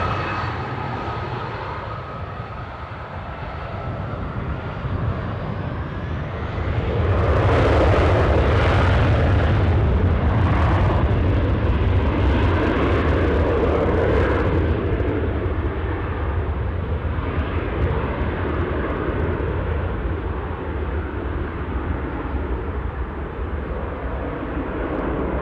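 A fixed-wing airliner takes off from Newcastle airport, its engines building from a distant hum into a loud, roaring rumble as it passes, then settling into a sustained steady roar with gusty fluctuations, with no one speaking.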